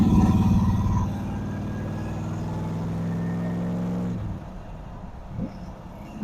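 C3 Corvette with a four-speed manual accelerating hard through its gears, a loud close engine roar climbing in pitch, then dropping at each shift into a lower rumble before revving again.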